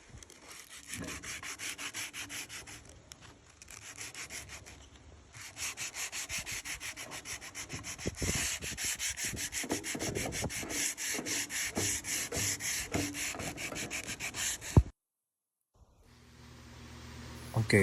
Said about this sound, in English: Time to do some sanding.